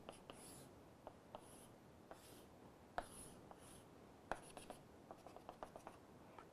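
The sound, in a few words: drawing a BCC unit cell on a board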